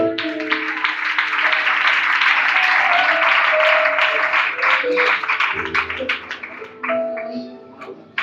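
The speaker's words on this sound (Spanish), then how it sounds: "Dan un aplauso para el Señor." Church congregation claps for the Lord in a steady, crowded burst with ringing tones and voices mixed in, the applause thinning toward the end.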